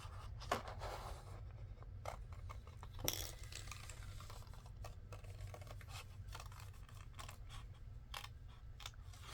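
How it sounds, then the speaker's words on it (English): Paper being cut by hand to shape a file folder flap, heard as a string of quiet, crisp snips and rustles spread through the stretch, with one sharper cut near the start and another about a third of the way in. "Let me cut some of that off."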